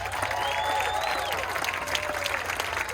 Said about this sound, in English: Give Warren a round of applause.